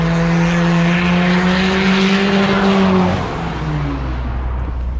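A diesel race car powers up a hill climb course at Réunion, its loud engine drone rising in pitch as it passes close, then dropping away as it continues up the slope.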